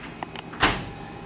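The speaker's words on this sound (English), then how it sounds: "Close the door," A door on a sensor calibration unit swings shut with one firm close after a few small clicks and rattles, leaving a short fading ring and steady background hum.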